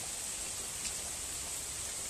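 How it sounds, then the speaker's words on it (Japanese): Steady rain falling in a forest, an even, broad wash of patter with no distinct drops standing out, continuous and fairly faint throughout with no voices. "雨の林を映しています。"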